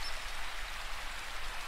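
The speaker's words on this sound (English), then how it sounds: "guided by Tibetan singing bowls and soft rain in the background" Soft, even rain falls as a gentle background hiss, with light patter close by and no voices.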